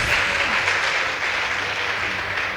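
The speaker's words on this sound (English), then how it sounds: "Please give them a round of applause." Dense, steady applause from a school debate audience fills the whole stretch at an even loudness, greeting the Kisumu Girls High School team after a competition against Lela Secondary.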